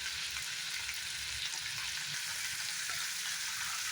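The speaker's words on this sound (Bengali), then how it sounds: "এখন খুব সুন্দর করে প্রত্যেকটা জিনিস আমি ফ্রাই করে নেব।" Paneer recipe ingredients fry in a pan, giving a steady, even sizzle throughout with no talking.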